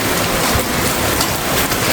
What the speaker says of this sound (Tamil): இன்றைக்கு முல்லைத்தீவு முள்ளிய வலையில் பயங்கர மழை அடித்து ஊற்றி கொண்டு இருக்குது